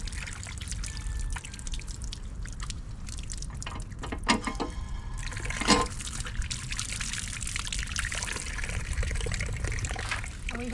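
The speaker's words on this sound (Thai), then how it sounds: "สิมาล้างมือกัน" Water runs and trickles from a tap while hands are washed, a steady close splashing with scattered drips and brief louder splashes.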